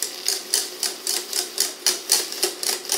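Butter is stirred into hot caramel in a pan, making a close, regular series of sharp taps and scrapes, about three or four per second, with no voices.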